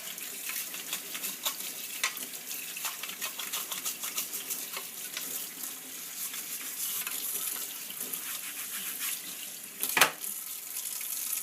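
Hot tap water runs steadily over juicer parts being rinsed in a sink, a continuous splashing hiss with small clinks, and one sharp knock near the end.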